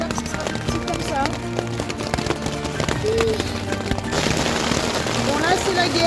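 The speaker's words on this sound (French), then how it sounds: "c'est carrément de la grêle" Hail pelting a tent during a mountain thunderstorm, a dense irregular patter of small hailstones drumming on the fabric close by, with scattered louder hits and a steady rushing background.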